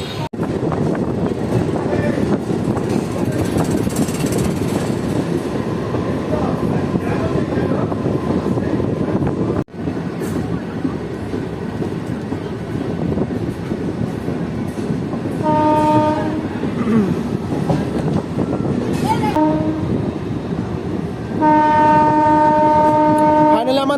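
A train rolls into Krishnanagar City Junction station on the newly reopened Amghata line, with steady rumbling and clatter throughout and a sustained horn blast sounding near the end.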